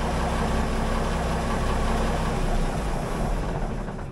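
A boat's large engine idles with a loud, continuous, even rumble that stays steady throughout, with no voices over it.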